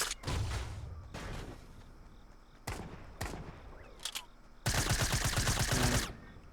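Gunshots in Fortnite, heard as a short burst, two quick single cracks and then a longer sustained volley, with quieter gaps between them.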